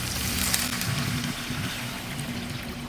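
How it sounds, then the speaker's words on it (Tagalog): Water poured into a pan of browning pork steak pieces, a steady broadband hiss and trickle over low sizzling, continuous and close for about three seconds with no talk. "bago tayo maglagay dyan ng tubig"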